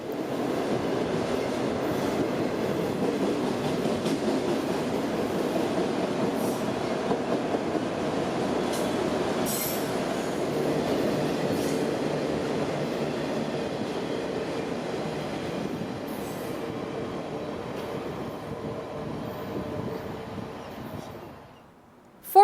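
A Florida mixed freight train with auto racks and a distributed power unit rolls steadily past on the rails, a continuous rumble with faint wheel clatter and squeals that holds for over twenty seconds before abruptly cutting off.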